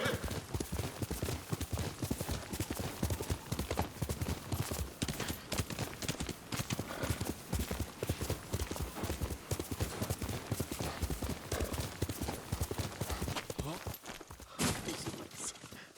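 Rapid, steady clip-clop of horse hooves at a brisk pace, loud and close, with a brief pause near the end, from the video game Ghost of Tsushima on PS5.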